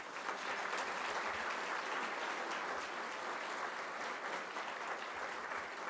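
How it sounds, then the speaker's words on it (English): A large event audience breaks into sustained applause to welcome students, a dense continuous wash of clapping that holds evenly throughout with no talking on top. "please join me in a round of applause as we welcome our students and thank their sponsors"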